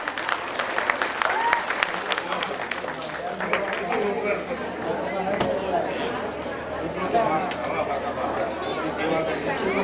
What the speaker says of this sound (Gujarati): આપણે એમને મહારાજને તાળીઓથી બતાવો.